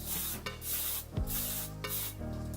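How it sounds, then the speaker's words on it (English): Several short hissing bursts of Ouai Memory Mist hair spray, close up, with brief pauses between pumps. "Going to spray it with the Ouai Memory Mist."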